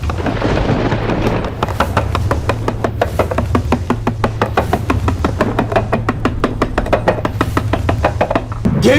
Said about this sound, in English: Messengers of Ogun, strike him with fire and lightning.